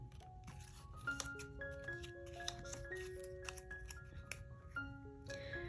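Scissors snipping paper for a scrapbook memory page, a quick series of faint close cuts with light paper rustle over a soft background, no speech.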